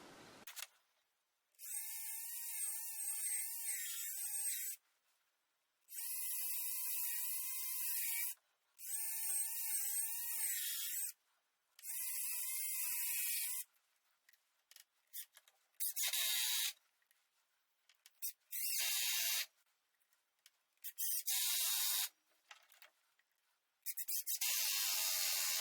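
A power drill drives wood screws into workbench legs, whirring in repeated bursts of a few seconds each with brief gaps, then shorter stuttering pulses, fairly quiet and steady, with no talk.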